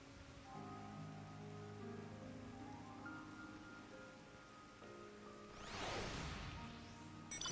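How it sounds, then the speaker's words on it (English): Steady rain in the game Final Fantasy XIV, a constant hiss of falling water under soft background music, with a brief whooshing swell near the end. "That's a lot of rain."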